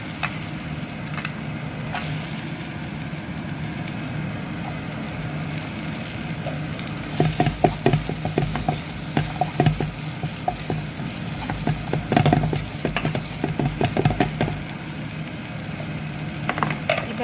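Turmeric and beans frying in a pan, with a steady close sizzle throughout and, from about midway, loud repeated clattering scrapes of a utensil stirring against the pan.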